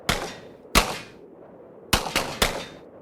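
Gunshots fired at a rope at point-blank range: five loud, sharp cracks, two spaced apart and then three in quick succession, each with a short ringing tail.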